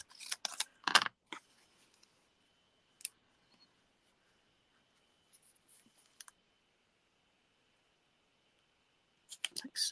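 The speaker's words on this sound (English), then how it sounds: "Cut this in half." Scissors cutting paper scraps in half for card making, a cluster of close crisp snips and clicks at the start, then sparse faint clicks and a final burst of cutting, mostly quiet between.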